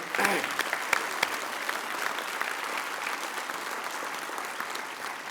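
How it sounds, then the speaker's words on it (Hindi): An audience at a school awards and felicitation function breaks into loud applause, with a few sharp individual claps at the start before settling into steady, dense clapping from many people. "मैं चाहता हूं कि आप सब उनका ऊंची तालियों से अभिनंदन करें"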